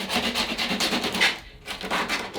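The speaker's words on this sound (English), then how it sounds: "you can just lightly sand that" Leftover resin on a surfboard fin box is lightly sanded by hand, giving close, rhythmic rubbing strokes with a short pause partway through.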